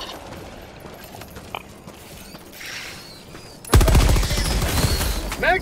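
Machine gun fire in Helldivers 2 opens partway through as a rapid, loud, sustained burst of shots over clattering mechanical noise, following a quieter stretch of battlefield ambience.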